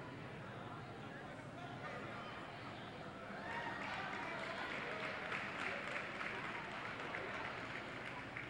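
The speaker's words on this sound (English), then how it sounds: "Gives a respectful applause to Cheyenne Wellington as she makes her way" Spectators at a high school girls basketball game break into faint, respectful applause that swells partway through and carries on steadily beneath a commentator's talk.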